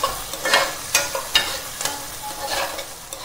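Chopped onions with cumin seeds crackle in hot oil for home-cooked mutton biryani, a close sizzle punctuated by several distinct spatula scrapes and knocks as they are stirred, with no talking.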